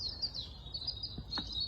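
Birds chirping outdoors, with thin high tweets repeating through the clip and a couple of brief lower calls near the end, fairly faint over quiet background.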